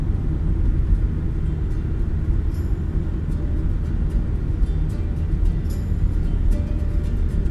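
Steady low road rumble and engine drone of a car cruising at about 81 km/h on a highway, heard from inside the cabin, continuous and fairly loud with faint higher ticks over it.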